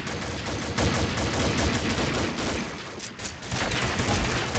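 Dense, continuous automatic gunfire from the shooter game Arms Race, loud and relentless with rapid overlapping shots that barely pause.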